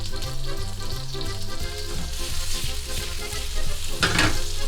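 Sliced chili frying in a hot pan as the base for a seafood pasta with black ink tagliolini, giving a steady close sizzle that runs throughout, with a louder burst of crackle near the end.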